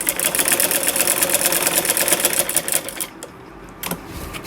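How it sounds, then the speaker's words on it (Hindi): A sewing machine runs steadily while stitching a salwar, a fast close mechanical clatter that eases off toward the end with a couple of brief knocks. "जहाँ हम सिलाई लगा रहे हैं"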